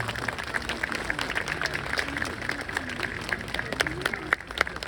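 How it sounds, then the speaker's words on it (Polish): Spectators at a military combat-dog demonstration held by a recruitment centre in Kraków clap in a brief, fairly faint outdoor burst while a voice talks over it. "Poproszę o brawa."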